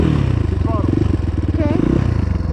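Apollo 250cc dirt bike engine running loud and close on a trail, a steady low rumble with slight revving throughout, with people talking over it.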